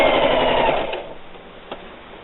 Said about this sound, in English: Put your presser foot down and sew.